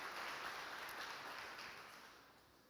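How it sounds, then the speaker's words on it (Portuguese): Church congregation applauding during a missions service, a dense, soft wash of clapping that fades gradually toward the end. "Você pode aplaudir o Senhor Jesus?"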